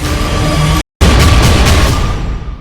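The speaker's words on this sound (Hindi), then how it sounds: "पीछे आप लगातार देख सकते हैं तोप और टैंक के धमाके की आवाज आ रही है।" Cannon and tank blasts from an Israeli attack roll on almost without pause, a loud, dense rumble of booms that drops out for a moment and then returns just as heavy.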